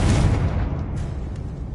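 A fiery Confringo blast spell in Hogwarts Legacy, a loud booming explosion that hits at once and then rumbles and fades over a second or so, with no talk.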